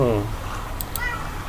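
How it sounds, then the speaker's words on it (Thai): A cat meows in the survival game Stranded Deep, with a couple of short calls in the first half-second, then a fainter one later. It sits amid steady game ambience, and someone speaks over it. "ตอนนี้น่าจะมีแมวนะครับ ได้ยินเสียงแมวไหม"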